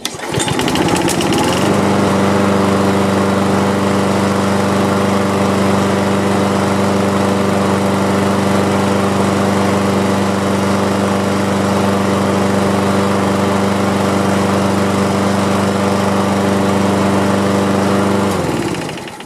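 A gas lawn mower engine starting up and then running steadily and loudly close by for nearly twenty seconds, a constant droning hum with no talk over it, before cutting off at the end.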